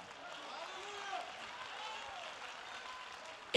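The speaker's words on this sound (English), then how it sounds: "Clap your hands now." A church congregation claps hands during a sermon, a faint, steady wash of clapping that continues for a few seconds with voices mixed in.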